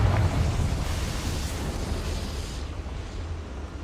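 Confringo fire spell exploding in Hogwarts Legacy: a loud, roaring blast with a low rumble that keeps up broad, rushing noise for several seconds, thinning slightly toward the end.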